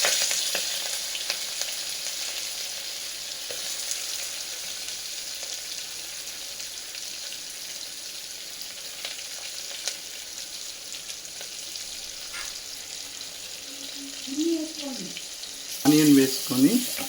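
Onion sizzles and fries in hot oil with ginger garlic, turmeric and curry leaves for a field bean curry. A steady, moderately loud crackle runs throughout, with a few stirring sounds near the end.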